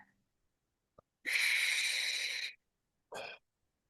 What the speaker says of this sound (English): So let's take a deep breath.